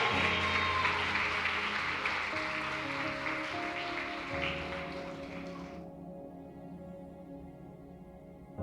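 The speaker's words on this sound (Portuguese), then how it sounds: "Você pode aplaudir bem forte o nome." A church congregation applauds in a dense, steady wash over sustained background music for about six seconds; the clapping then cuts off abruptly while the music carries on alone.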